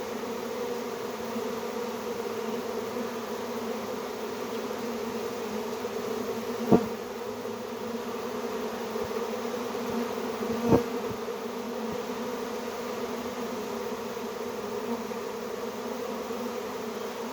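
A honey bee swarm fans pheromone, producing a steady, droning buzz of many wings that holds without a break, close and even, with two faint knocks and no voices.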